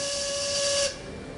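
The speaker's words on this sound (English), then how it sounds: "You didn't just blow the whistle, did you?" A loud, sustained steam whistle blast from the ship in the Hidden Mysteries Titanic game, a bright hissing tone that cuts off abruptly after about a second, leaving a softer steam hiss.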